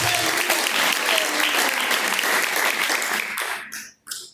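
A church congregation claps joyfully for Jesus during a live service, a dense, loud burst of applause that holds steady for about three seconds and then breaks off abruptly with a couple of final claps.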